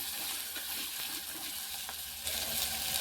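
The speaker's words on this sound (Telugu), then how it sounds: "ఆలు ముక్కలండి. కొద్దిసేపు నూనెలో మగ్గనిద్దామండి." Potato pieces fry in oil for an aloo tomato curry, a steady close sizzle with soft bubbling that swells slightly near the end, with no talking over it.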